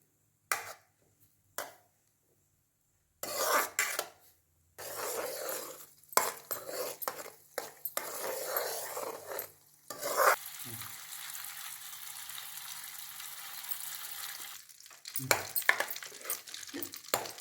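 Butter made from milk cream melts into ghee in a pan over a medium flame, a soft crackling bubble broken by pauses and clanks of metal utensils and pots.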